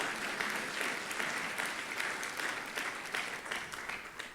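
A church congregation claps steadily and enthusiastically for several seconds during a sermon, dense applause heard from a little distance.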